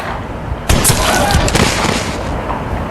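A gun fires once in the Granny 3 horror game, a sudden loud broadband blast at about 0.7 s that rings out and decays over the following seconds with no talk.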